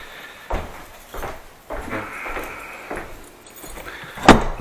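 Keys jingle and rattle in bursts while a house door is being locked, with metallic clinks and handling thumps and a sharper clack near the end.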